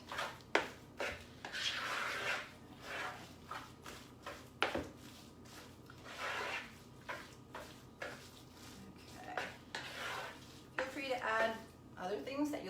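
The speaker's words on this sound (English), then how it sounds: "Smash it in there until all that dressing is absorbed." Utensil stirring and mashing no-tuna salad with dressing in a bowl, soft repeated scrapes and clinks under ongoing talk, with a sharp knock midway.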